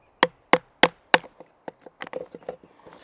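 A knife is batoned through a small wood limb with four sharp, evenly spaced strikes at first, then a quicker run of softer taps and knocks, close and with no talking.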